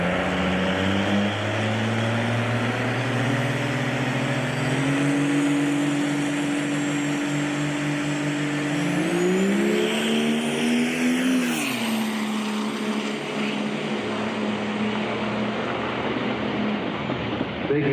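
A diesel truck engine runs on a dyno at a callout challenge event, droning steadily for a long stretch with pitch climbing in stages, surging near the middle, then easing back, heard from a moderate distance.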